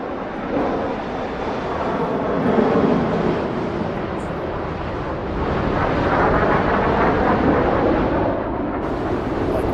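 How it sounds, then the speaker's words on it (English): A jet aircraft in the DCS flight simulator game gives a broad, steady roar for about ten seconds, swelling slightly midway as it passes overhead, with no talk over it. "I hear a jet."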